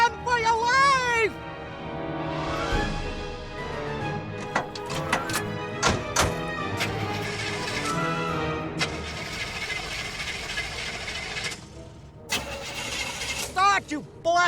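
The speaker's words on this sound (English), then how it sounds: "Start, you blasted car!" An old car engine cranks and sputters without catching, with repeated thunks and whirring starter bursts, mixed with a spooky tolling bell scene, voices talking and music around it.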